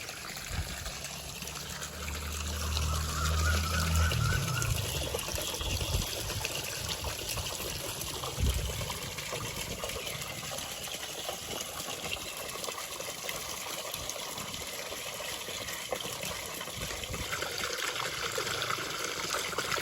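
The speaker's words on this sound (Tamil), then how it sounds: "தண்ணி ஒரு பக்கம் போகுது" Water trickling and running across a floor during house cleaning, a faint continuous liquid dribble and splash with a low thump early on, steady and close throughout.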